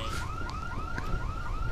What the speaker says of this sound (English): Turn off alarm.